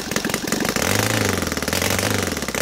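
A Saito FA270T twin-cylinder model airplane engine converted to gas with CH ignition idles loud and close, a rough, rapid chugging putter that holds steady and alone.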